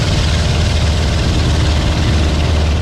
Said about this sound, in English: My little Continental O200 engine just loves these kind of low temperatures.